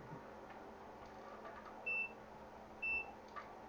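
A multimeter in continuity mode, probing a Dell laptop motherboard under repair, gives two short, clear electronic beeps about a second apart over a faint background hiss.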